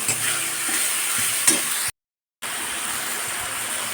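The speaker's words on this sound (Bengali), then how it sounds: "যতক্ষণ না মশলা থেকে তেল ছাড়বে ততক্ষণ মশলাটা সুন্দরভাবে এইভাবে কষাতে থাকবো" Spice paste is stir-fried in oil for a jackfruit and egg curry, giving a close, steady sizzle with scraping stirs. A short silent gap breaks it midway before the frying resumes.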